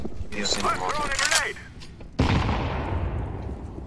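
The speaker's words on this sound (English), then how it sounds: "Throwing fire! Throwing a flashbang!" In CS:GO, a thrown grenade goes off with a sudden sharp burst that fades into a crackling tail, after a player's shouting.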